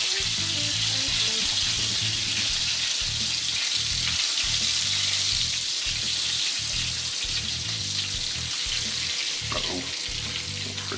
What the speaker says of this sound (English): we'll let these fry